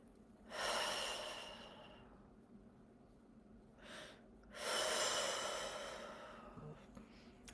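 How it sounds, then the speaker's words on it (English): Two slow, audible breaths in and out, each a soft airy rush with a quiet pause between, close and alone with no talking. "to breathe in and out,"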